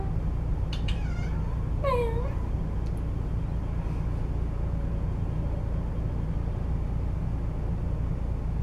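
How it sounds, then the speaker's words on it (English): A house cat gives two or three short, close meows near the start, then goes quiet. A steady low hum sits underneath throughout. "My cat."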